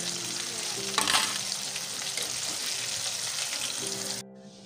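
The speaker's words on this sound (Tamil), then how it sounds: "இதை மீடியம் ஃப்ளேம்லேயே வச்சு நம்ம நல்லா பொறிச்சு எடுத்துடலாம்." KFC-style popcorn chicken deep frying in oil over a medium flame, a steady close crackling sizzle that runs without a break and cuts off abruptly near the end.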